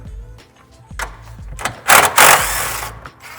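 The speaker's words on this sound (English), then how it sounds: "So we're going to remove that one bolt there." A 10mm bolt is worked loose inside a Tesla Model Y with a hand tool: soft clicks and taps build to a couple of loud, rasping ratchet bursts, close by.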